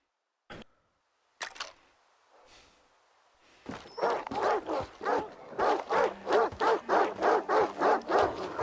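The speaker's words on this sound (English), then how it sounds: "Fuck these goddamn dogs." Dogs in the Stalker 2 video game bark and whimper, starting with a few isolated yelps and then settling into a loud, steady run of rapid barks that carries on to the end.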